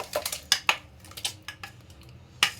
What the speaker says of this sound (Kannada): ಈಗ ಮಿಕ್ಸಿಗೆ ಹಾಕಿರುವಂತಹದ್ದನ್ನು ಅದೇ ಬಾಣಲೆಗೆ ಹಾಕ್ಕೊಂಡು ಸ್ವಲ್ಪ ನೀರು ಹಾಕಿ